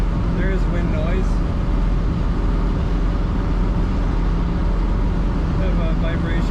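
Interior cruise in a 1969 Ford Mustang Fastback 390 at 60 mph, with a steady broadband roar of wind and road noise filling the cabin throughout while someone talks over it.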